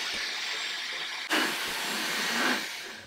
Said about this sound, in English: So I'm gonna go in with my Dyson and blow dry my roots.